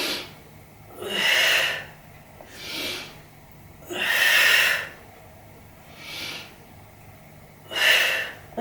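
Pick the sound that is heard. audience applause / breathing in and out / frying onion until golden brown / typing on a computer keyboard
breathing in and out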